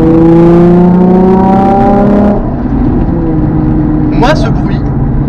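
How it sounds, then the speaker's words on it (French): A Nissan 350Z engine on the move, loud and close, gives a strong harmonic drone that drops off after a couple of seconds to a lower rumble, with a brief high-pitched chirp near the end. "Moi, ce bruit, ça me rappelle la Nissan GT-R, mais sans les turbos."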